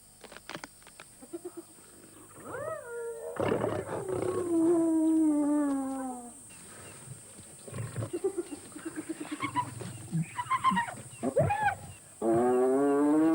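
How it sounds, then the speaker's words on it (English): A hyena pack attacking a lone lioness in the wild: loud growls and roars mixed with whooping, rising and falling cries and yelps, overlapping in a chaotic, close struggle. "Hyenas, both some speed and some weight reinforced by the pack, is a strategy that stretches a long way, all the way to taking on some of the real heavies, a lone lioness"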